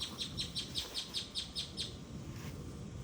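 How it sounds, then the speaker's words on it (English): A bird nearby chirps a quick run of about nine evenly spaced high tweets, then falls quiet over a faint background. "Even the bird agreed."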